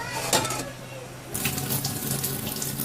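Tap water runs steadily into a sink while fish fat is washed off, a continuous near splash that grows louder after a brief quieter stretch, with no talk.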